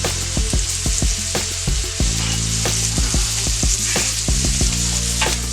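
Mushrooms sizzle steadily in butter in a pan, a continuous loud fry with frequent sharp clicks and taps of a utensil stirring and turning them throughout.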